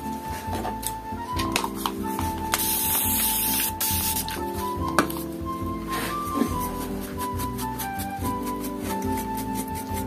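An aging-effect spray misted onto a glass jar hisses steadily and close under a continuous background of tonal sound, with occasional soft clicks and rustles.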